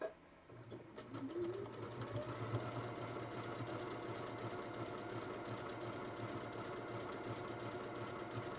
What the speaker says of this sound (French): On vient finir de coudre notre gousset.